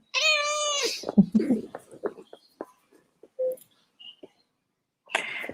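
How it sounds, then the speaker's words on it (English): A house cat gives a loud, drawn-out meow up close, followed by scattered soft sounds and a person's hushed speech, then another sharp meow at the end. "Shh, kitty."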